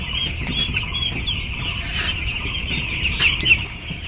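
Soft, steady peeping of chicks with faint clucking beneath a constant high hiss, occasional wing flutters and small scuffles.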